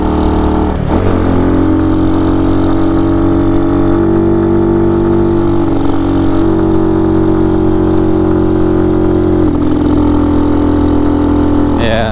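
An RPS Condor 150cc engine fitted with a Nibbi 26mm carb and filter runs a little rich at low RPM in cold weather. It holds a loud, steady droning idle with a couple of brief blips in pitch and no talking.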